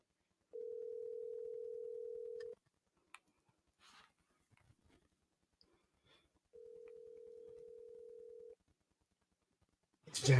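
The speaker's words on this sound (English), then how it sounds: "It's really ringing though, so just so y'all know." A telephone rings twice, each ring a steady two-second electronic tone with a pause between, followed by a few faint clicks and a louder bump at the end.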